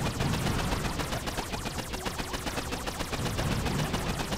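Electro-cannon defense in a video game firing like a machine gun, a dense, steady rapid stream of shots that keeps up at full loudness throughout, with no talk.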